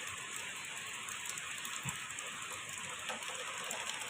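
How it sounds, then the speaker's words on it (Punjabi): Heavy rain falling in the hills on a foggy day, a steady, even wash of dense patter with no breaks, moderately loud and constant from start to finish. "ਅੱਜ ਬਹੁਤ ਜ਼ਿਆਦਾ ਮੀਂਹ ਪੈਣ ਲੱਗਿਆ ਹੈ"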